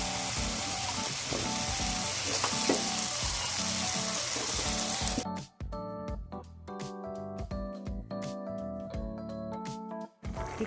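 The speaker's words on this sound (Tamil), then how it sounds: "இப்போ நம்ம வேக வச்ச பீன்ஸையும் அது கூட நம்ம சேர்த்துக்கலாம்." Boiled beans frying in a pan for beans kootu, giving a loud steady sizzle that gives way to sharper crackling, stirring and pan clatter partway through, with no voices.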